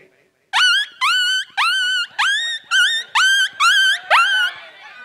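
A voice imitates a puppy with a series of about eight high, whiny yelps in quick succession, loud and close.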